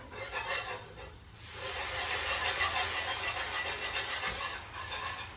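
Milk being whisked little by little into a vegan mac and cheese sauce, a steady rhythmic scraping and rasping of the whisk against the pan, close and continuous, growing denser after a short pause, with no talking.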